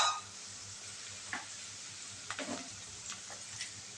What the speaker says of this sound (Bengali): পেঁয়াজটা কিছুটা ভেজে নেব আগে মিডিয়াম আঁচে দিয়ে।